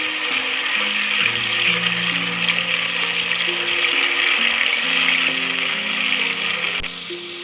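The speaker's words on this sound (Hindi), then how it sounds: "ऑयल ऐड करने के बाद हम डालेंगे इसमें अदरक लहसुन का पेस्ट" A steady, crackling sizzle of ginger garlic paste frying in hot oil for mutton karahi, close and even throughout, with no talking.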